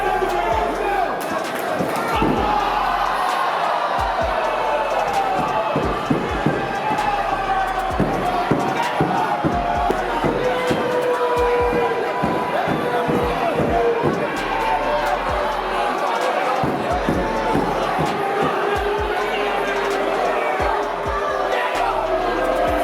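A crowd at a celebrity boxing match reacts with loud, restless noise, scattered shouts and sharp bangs breaking through, while a voice talks over much of it.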